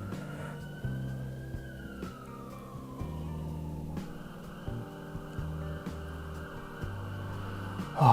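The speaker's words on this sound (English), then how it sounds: "Sirens." A faint siren wails in the distance in Hartford, Connecticut, its pitch slowly sliding down, under steady background music.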